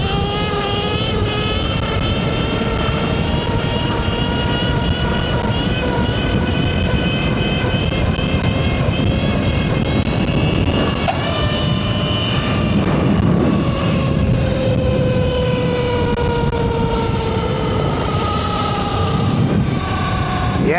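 An EBMX V3 Ultra Bee electric dirt bike rides and pulls a wheelie, its motor giving a loud, steady whine whose pitch rises and falls with the throttle under constant wind rush, with no voices.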